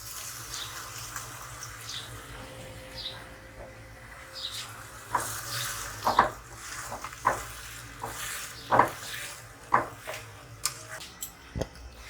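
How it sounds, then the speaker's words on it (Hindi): Tomato paste going into a pan of onions and cumin frying gently in oil, giving a soft sizzle with a series of clinking, scraping stirs from a spoon against the pan. No one speaks. "अब मैं इसमें टोमेटो पेस्ट ऐड कर दूँगी।"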